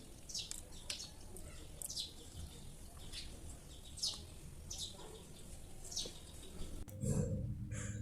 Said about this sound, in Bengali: সকাল সকাল দেখেন আমার ব্যালকনিতে পাখি আসছে